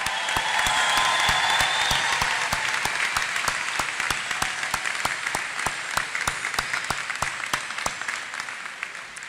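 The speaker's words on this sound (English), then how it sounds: "don't you think we should applaud for these folks?" An audience at a university recognition ceremony claps steadily and warmly, a dense, sustained round of applause that tapers slightly as it continues, with no voices over it.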